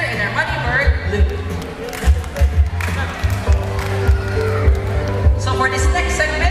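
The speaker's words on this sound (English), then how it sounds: "So let's give a round of applause to our volunteer and our money bird" An audience applauds a volunteer and a blue money bird at a bird show in Cebu Ocean Park, with scattered claps rising and falling under ongoing talk and crowd noise.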